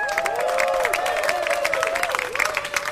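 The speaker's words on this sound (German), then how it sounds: "das ist auch ein Applaus wert" A street festival crowd at an outdoor anniversary celebration claps in a dense, steady wash of applause, with a sustained tonal hum running beneath it.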